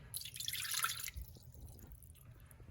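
Water pours into a Thermomix bowl for a bread yeast starter, a bright trickling splash for about a second, followed by faint drips and quiet.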